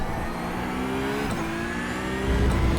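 Race car engine in the iRacing sim, a steady mid-pitched drone with rising gear-like tones and a louder surge near the end, heard alone at a moderate level.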